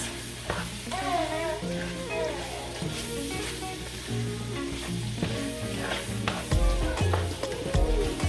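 Beef tips sizzling in butter in a hot pan while being stirred, a steady loud frying crackle with scraping utensil clatter toward the end, and a voice speaking quietly under it.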